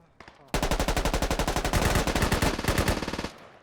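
An MG3 machine gun in a video game fires one long, loud, rapid burst of evenly spaced shots lasting about three seconds, close and dominant before cutting off.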